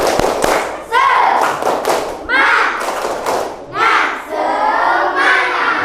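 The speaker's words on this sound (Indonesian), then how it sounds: "tepuk semangat" A group performs a rhythmic spirit clap (tepuk semangat), loud bursts of patterned clapping alternating with energetic shouted chanting from many voices.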